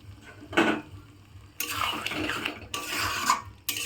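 Boiled chickpeas being stirred with spices in a pan for homemade tadka, with scraping and clattering utensil strokes in bursts over a low sizzle, fairly close.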